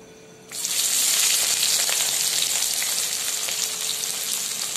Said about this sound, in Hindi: प्याज डालने के बाद इसे लाइट ब्राउन करने तक भून लेंगे।